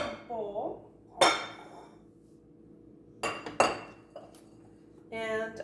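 A kitchen bowl being taken out and handled while preparing a pear cobbler, with a few separate clinks and clatters of dishes and utensils, close by, between quiet pauses.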